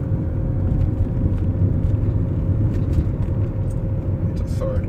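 A BMW E39 converted to electric drive with a Prius inverter accelerates normally, giving a steady, continuous low road and drivetrain rumble with a faint whine, constant throughout.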